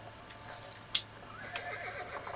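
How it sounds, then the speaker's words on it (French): A horse neighs once in Assassin's Creed Brotherhood after being called, a short, fairly faint whinny followed by soft hoofbeats as it approaches over quiet game ambience. "Voilà, donc là j'ai appelé mon cheval,"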